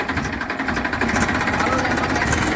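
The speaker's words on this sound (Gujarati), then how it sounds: "ટ્રેક્ટર લઈને જાય છે" A farm tractor in a village chugs steadily as it drives away, its engine a continuous, moderately loud rumble with no voices.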